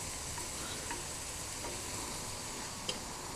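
Milk powder stirred into carrot halwa in a pan, giving a steady close scraping and soft sizzle throughout, with a faint tick near the end and no voices.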